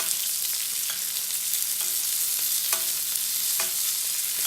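Steak searing in a pan while being basted with butter and rosemary, a constant bright sizzle with periodic soft spoon scrapes and splashes as the hot fat is spooned over, close-up with no voices.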